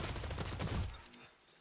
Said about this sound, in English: I've got a player who starts shooting at me